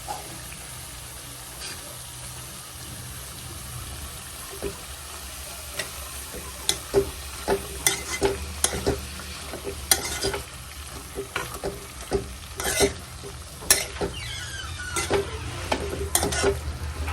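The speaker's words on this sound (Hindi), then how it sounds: "तो पहले मैं आलू पका लेती हूँ थोड़ी देर" Potatoes fry in a pan under a steady, close sizzle, with repeated scraping stirs building in the second half and a few sharp utensil clicks on the pan.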